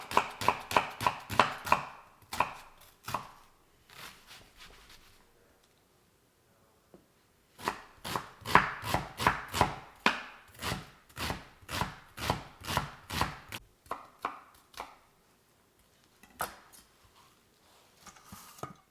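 Half an onion chopped with a knife on a cutting board: quick, crisp rhythmic taps in bursts, a brief pause, then another long run of steady chopping, close and without talking.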